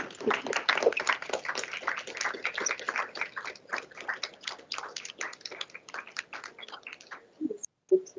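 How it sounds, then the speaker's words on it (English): A board meeting audience gives a standing round of applause to honor a retiring member for his service: dense, steady clapping from many hands for about seven seconds, then thinning to a few scattered claps. "So I hope you would join me in standing to give Larry a round of applause"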